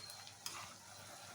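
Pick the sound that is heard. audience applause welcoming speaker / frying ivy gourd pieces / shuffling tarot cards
frying ivy gourd pieces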